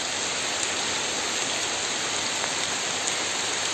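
Steady, heavy rain pours down on a mountain forest trail on Gunung Kawi in East Java, a dense, unbroken hiss of drops close around the microphone, with no voices heard.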